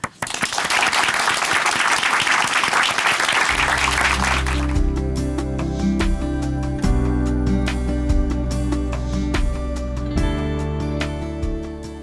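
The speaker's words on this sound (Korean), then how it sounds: "춘천한마음교회 김세영 형제님 박수로 모시겠습니다." Church audience applause welcoming a speaker at a Korean congregation event in Chuncheon, a dense burst of clapping that fills the first few seconds before giving way to loud instrumental music with a steady beat.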